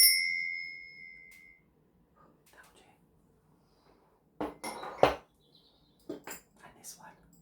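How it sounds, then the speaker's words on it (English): Small bells are rung softly in a space-cleansing ritual, with a bright ringing tone at the start that fades, followed by scattered quiet metallic clinks and taps separated by near silence. "I'm going to ring my bells."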